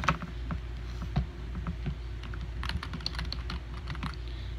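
Typing on a cheap old keyboard, a quick patter of light plastic key clicks, sparse at first and then a dense burst, close up over a low steady room hum.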